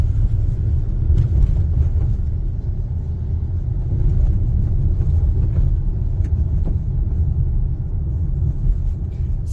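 A steady low rumble of road and tire noise fills the cabin as a 2024 Hyundai Palisade Ultimate Calligraphy drives over a rough, bumpy road, constant and fairly loud throughout.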